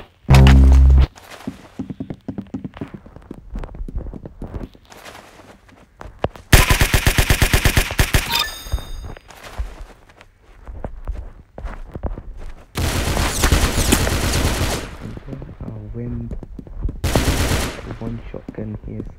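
Gunfire in the Roblox game Arsenal, including shotgun blasts: loud bursts of rapid automatic fire alternate with single thumping shots and short gaps, close and punchy, with no talking.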